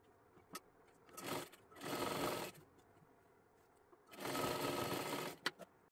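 A sewing machine stitches a sleeve seam on a girl's one-piece dress made from a bordered saree, running in three bursts: a short one, a longer steady run, then another long run, with pauses between and no talk.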